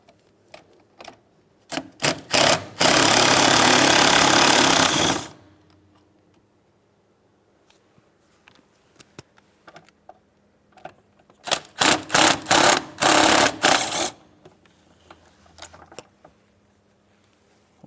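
A wrench loosens the 13 mm mounting nuts of a brake master cylinder on a 2008-2016 Chrysler Town & Country, giving close bursts of rapid ratcheting clicks separated by quiet pauses and light taps.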